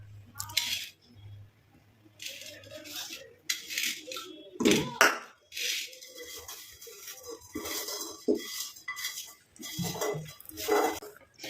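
Homemade natural hair dye being moved into a bowl, with utensils clinking and scraping against kitchenware in irregular bursts, close up, with no talking.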